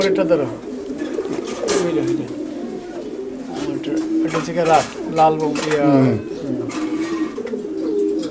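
Several fancy Bombai pigeons coo close by in low, throaty, repeated calls that overlap one another, with a person talking over them.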